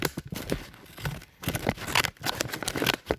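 Scissors snipping through paper while a small mouse-trap hole is being patched, with several short crisp cuts and crinkles spread across a few seconds at close range.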